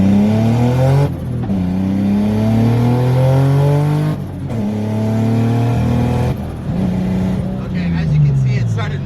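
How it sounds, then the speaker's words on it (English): Turbocharged BMW E36 engine misfiring under way, heard from inside the car: a loud, steady engine drone with rising revs that cuts out in three abrupt drops before picking up again. "as you can see, it started misfiring."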